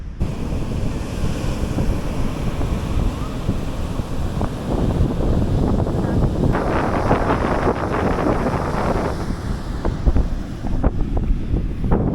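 Large ocean waves roll in and crash at Alappuzha beach, a loud, continuous surf roar with heavy wind buffeting the microphone and a surge of breaking water midway.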